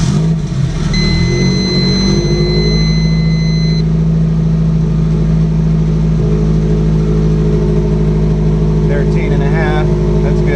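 A Subaru Impreza GC8 engine idles after a cold start, a loud steady low rumble running throughout with a high whine fading early and faint voices near the end.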